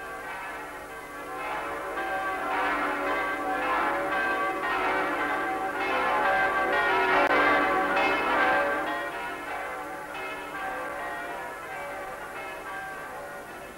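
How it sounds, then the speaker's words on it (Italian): The church bells of St. Peter's Basilica ring in a long, continuous peal of overlapping strokes that swells in the middle, heard from a distance with no talking. "le campane di San Pietro davano l'annuncio a tutta la cristianità"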